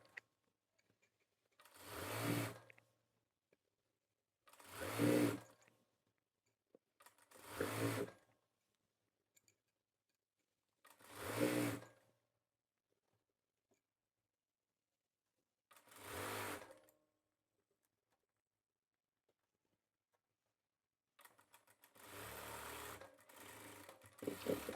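A sewing machine stitches the double-folded hem of a men's kurta in five short separate bursts with quiet pauses between, then a longer uneven run near the end, close and fairly soft.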